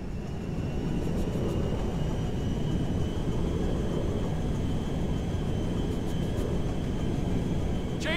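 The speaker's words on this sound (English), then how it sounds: "We are now landing in Mackenzie Field." Cargo jet landing at an airfield in the GTA 5 video game, a steady broadband engine roar with low rumble holding at constant loudness throughout, with faint high whines above.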